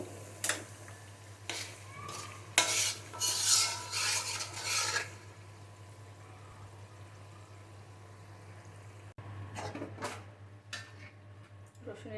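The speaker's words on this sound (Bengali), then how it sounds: "হয়ে গেছে মশলা কষানো এখন এটা বয়েমে ঢেলে দিব" A cooked spice mixture for olive-garlic pickle, made with large sun-dried olives, is scraped and poured into a jar in rasping, clattering bursts, then the sound falls to near quiet.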